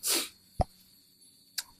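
A single sharp sneeze bursts out at the start, followed by two brief soft knocks in otherwise quiet surroundings.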